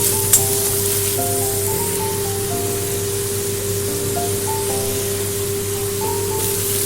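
Ginger paste and onion frying in a pan for Bengali chanar dalna, a steady, even sizzle close by, running continuously beneath soft background music.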